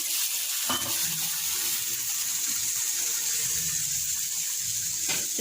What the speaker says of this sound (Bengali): জল দিতে হবে